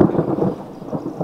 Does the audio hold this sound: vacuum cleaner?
no